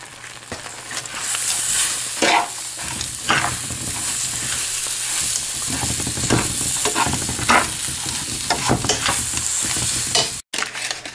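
A spoon scrapes and stirs a sticky mixed-nut chikki mixture in a pan, giving repeated close scraping strokes over a low sizzle, with a brief gap near the end.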